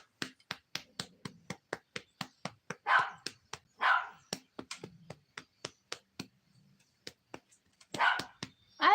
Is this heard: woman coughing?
no